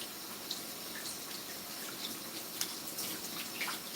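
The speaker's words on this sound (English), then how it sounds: "Right here, just rinse out our bok choy." Steady stream of running tap water over bok choy in a sink, a continuous close hiss with small splashes and drips and no talking.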